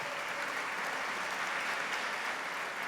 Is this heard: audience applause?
yes